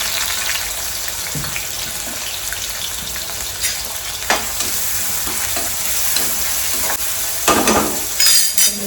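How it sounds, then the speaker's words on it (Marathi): Onion, green chili and tomato dropped into hot oil, sizzling steadily up close, with spoon clinks and louder scraping stirs toward the end and no one speaking. "आपलं तेल आता गरम झालं आहे. आपण ह्याच्यामध्ये लगेच कांदा टाकू, मिरची,"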